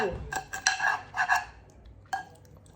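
A metal utensil scrapes and clinks against a pan holding an egg left to cook in the sun on a hot UK day, a few short close rasps and taps.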